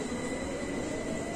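Steady rumble of a London Underground station near the Jubilee line, a continuous broadband roar of trains and station machinery with no voices, moderately loud throughout.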